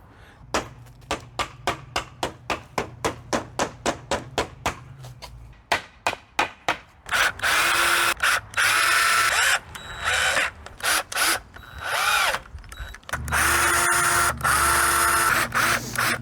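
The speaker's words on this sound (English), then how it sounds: "I know that's the cheap, dirty way of countersinking, but it's all I got." Drill countersinking a screw hole in wood: a run of short, evenly spaced taps gives way to loud bursts of high-speed drilling and whining, separated by brief pauses.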